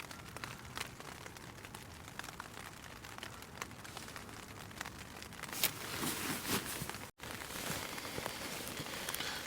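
Steady rain patters on a self-made camping shelter, a dense continuous hiss with occasional louder drips and a brief dropout near the end, no talking.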